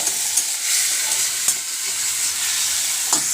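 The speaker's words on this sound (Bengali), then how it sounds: "আদা রসুন আর কাঁচা লঙ্কা যে কোচানো ছিল, এটাকে আমরা একটু কষিয়ে নেব" Chopped ginger, garlic and green chili sauté in a pan with a continuous bright sizzle, broken by a few sharp spatula knocks as the mixture is stirred.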